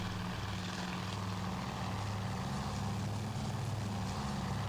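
A propeller plane's engine drones in Task Force Admiral, a loud, constant low rumble with a steady tonal hum and broadband roar that never lets up, heard alone without speech.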